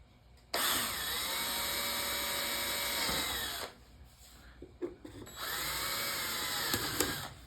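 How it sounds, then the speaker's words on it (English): A power drill bores holes through arcade cabinet laminate during a Popeye arcade machine restoration, with two sustained loud whining runs separated by a brief pause and some handling clatter. "So what we can do is just carefully drill through here."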